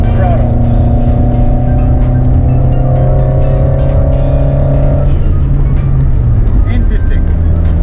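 A car engine holds steady at about 3500 rpm under very light partial throttle, a loud continuous drone with stable harmonic tones that shift slightly near the end, while a person talks over it.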